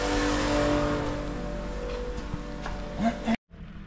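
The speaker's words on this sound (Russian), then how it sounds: "Все, Воксик от нас уехал." A Toyota Voxy minivan pulls away from a repair shop, its engine noise fading as it drives off before the sound cuts out abruptly.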